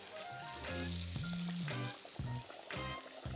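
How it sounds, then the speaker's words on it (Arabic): Pieces of liver and brains coated in bran frying in hot oil, a steady loud sizzle that keeps bubbling and crackling throughout with no talking. "الزيت اول ما يسخن معايا كده بدأ يسخن اهو، ببدأ امسك قطعتين انفض"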